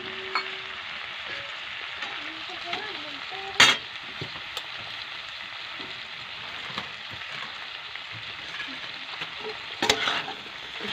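Tomatoes sauté in a pan with a soft, steady sizzle, close and moderately quiet, with occasional stirring scrapes and two sharper clatters of the spoon against the pan.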